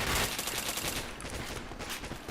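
Rapid automatic gunfire in a video game, a dense burst of close, loud shots that carries on throughout.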